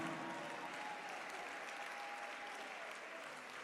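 Sustained audience applause at a graduation ceremony, a dense, even roar of many people clapping together for the graduates, with no voices standing out.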